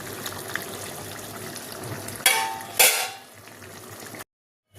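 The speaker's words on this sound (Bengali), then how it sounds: "দেখো কি সুন্দর ফুটছে।" Taro stolon and fish curry bubbling in a bowl, a steady watery simmer with two brief louder gushing bursts before it cuts to silence.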